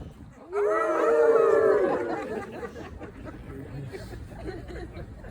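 A voice imitates a dog's howl, a rising wavering wail lasting about two seconds, followed by quieter chatter.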